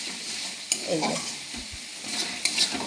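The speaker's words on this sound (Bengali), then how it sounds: "এই দেখুন গ্যাস মিডিয়াম রেখেছি আর মশলা আমার কষানো চলছে।" Spice masala for egg tarka frying on medium gas, a continuous close sizzle with a few clinks and scraping strokes of a spoon stirring in the pan.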